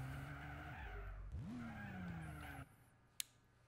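Tires screech loudly as a car skids and spins out in Gran Turismo 4, the squeal bending upward and holding over engine noise, then cutting off sharply, followed by a brief click.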